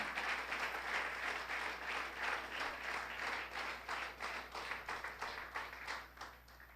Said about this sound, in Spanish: Un fuerte aplauso a Cristo entonces.